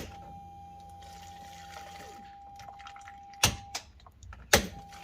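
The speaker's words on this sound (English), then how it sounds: "We're going to cycle the key on and off 5 times, allowing the pump to cycle for 2 seconds each time" Fuel pump of a Honda Pioneer 1000 side-by-side running briefly with a steady whine, then stopping, followed by a couple of sharp splashes and drips of fuel into a jug, faint and close.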